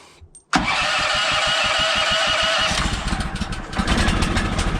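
A sawmill engine cranks over with choke on and catches with a sudden roar, then settles into a loud, throbbing idle with a steady rhythmic thump, close by.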